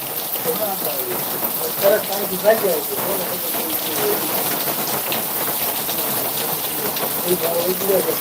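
A gentle, steady rain patters continuously and close, an even hiss with small drop taps, as a voice speaks quietly beneath it.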